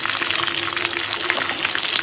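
Chicken pieces fry in hot oil for mustard chicken, a close, steady sizzle with crackling pops and no talk over it.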